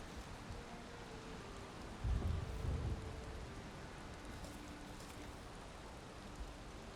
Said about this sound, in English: Man, this storm is really pretty crazy right now.